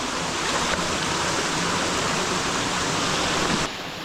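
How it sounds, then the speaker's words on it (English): Water pours heavily from cave tributaries into a deep Bali canyon, a loud, dense and continuous roar of falling water close by. "Here, tribs are just like normal waterfalls. There's so much water pours from everywhere."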